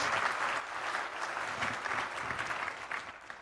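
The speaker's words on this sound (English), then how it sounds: "Can we get one more round of applause for our fortune partner, Alan Murray, and these courageous leaders who graced our stage?" Conference audience applauding for a round of applause, a dense, steady wash of many hands clapping at once, sustained and even, heard from within a large hall with no voice on top.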